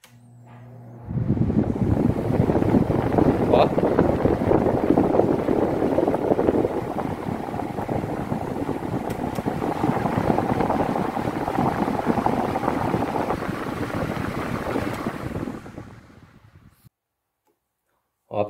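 A Britânia electric fan switched on after a bearing replacement, running with a steady, fairly loud whirring hum for about fifteen seconds before spinning down and going quiet.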